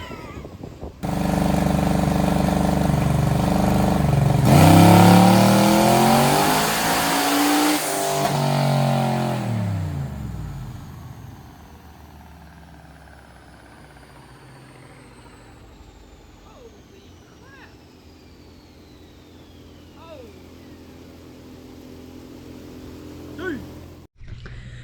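Twin-turbo Corvette V8 roaring up through a dyno pull, loud and close, rising in pitch to a peak before cutting off and winding down, with spooling and blow-off whooshes fading afterward and no talk.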